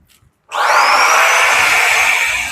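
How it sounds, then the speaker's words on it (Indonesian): A Simplus 3-in-1 vacuum cleaner switches on after a brief quiet moment and runs with a loud, steady whine and rushing airflow that lasts to the end. "lalu kita vakum"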